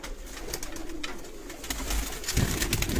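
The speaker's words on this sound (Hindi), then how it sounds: "पुराने कबूतर सारे हैं अपने पास।" Domestic pigeons coo softly in a rooftop loft, a few low, rounded calls close by amid faint wingbeats and shuffling, with no talking.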